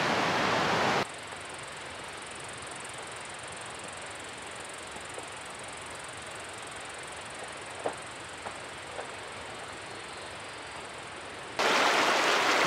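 Evolution Creek on the Pacific Crest Trail, a steady broadband rush of flowing water, loud and close at the start and end with a softer, even wash between, a few faint clicks.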